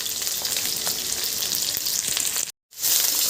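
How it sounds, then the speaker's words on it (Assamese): Onions and bay leaves fry in hot oil for an Assamese-style dish, giving a loud, dense, continuous sizzle close by. The sound cuts out briefly, then the sizzling resumes. No voices. "তেল গৰম হৈ গৈছে, তেজপাত দিলোঁ দুটামান, তাৰপিছতে পিঁয়াজ দিলোঁ"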